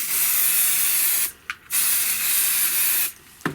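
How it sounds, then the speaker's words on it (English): An aerosol can of spray adhesive hisses onto quilt batting in two long sustained bursts, with a short break and a brief puff between them, close up. "lay your batting down so that you're spraying the wrong side of the batting also, and just spray that"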